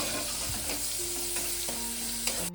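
Chopped medium onion frying in oil in a pan for a Bengali hilsa fish head curry with taro stolons, a steady close sizzle with occasional stirring clinks.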